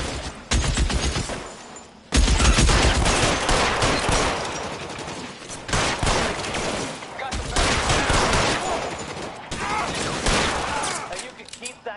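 Sustained gunfire in the crime video game L.A. Noire, loud and close, with dense overlapping shots and bursts in long stretches broken by brief lulls; voices shout amid the firing.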